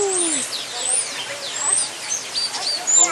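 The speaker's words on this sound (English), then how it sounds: "Oh, the birds. How cute." Small birds chirping around nests high overhead, with thin, scattered high-pitched calls repeating over a steady wash of ambient background noise.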